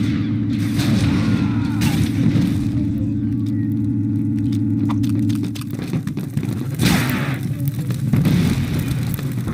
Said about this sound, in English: someone threw a grenade at me